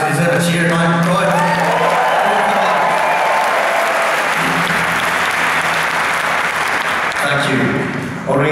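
Concert audience at the Roaming Roots Revue giving loud, sustained applause and cheering, a thick wall of clapping that swells and holds for several seconds, with a voice speaking at the start and end.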